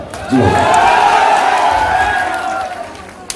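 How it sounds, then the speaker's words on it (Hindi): Crowd at a political rally in Uttar Pradesh, India, breaks into loud, close cheering, whoops and clapping that swell quickly, hold, then slowly fade. "एक जोरदार ताली केशव भैया।"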